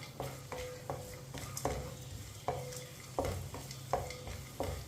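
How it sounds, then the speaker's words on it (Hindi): Sweet vermicelli roasts with cardamom in a pan over a low flame as a spoon stirs it, making rhythmic scraping strokes about every second over a soft background hum, close and fairly quiet. "इसे 2 मिनट के लिए चम्मच चलाते हुए भून लेंगे, पका लेंगे।"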